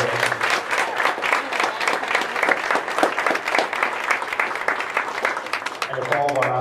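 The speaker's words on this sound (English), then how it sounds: "We could all give these fine young men and women a round of applause." An audience at a high school athletic signing day ceremony claps in a dense, steady round of applause that fills the space, with some voices under it and a speaker resuming at the end.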